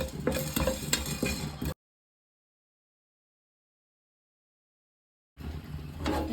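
Pepper, cinnamon, cloves, coriander seeds and fennel dry-fry and get stirred in a pan with a steady close crackle that drops to silence partway through, then returns.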